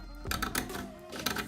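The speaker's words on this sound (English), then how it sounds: "I'm going to try scrape the paint off really hard" Paint being scraped hard off a surface, rough close scraping bursts in quick repeated strokes over a short span, moderately loud.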